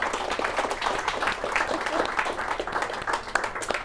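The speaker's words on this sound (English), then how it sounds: "a round of applause." Warm, thick applause from an afternoon audience gathered in Paris in December, a crowd of many clapping hands at close range, sustained and even, with a faint murmur of voices mixed in.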